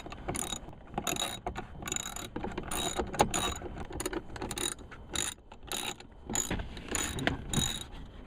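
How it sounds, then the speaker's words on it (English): A T20 Torx bit turns out the sun visor bolts in a Jeep Wrangler cab, giving repeated ratcheting clicks and mechanical whirring in close, busy bursts with no talking. "to remove the sun visor, we're just going to use a T20 Torx bit and just take it to remove the bolts here"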